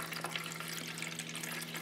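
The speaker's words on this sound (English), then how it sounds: "Adding water." Water poured into an Aerogarden Harvest Slim hydroponic system, a steady close splashing trickle with a faint low hum underneath, brief and continuous.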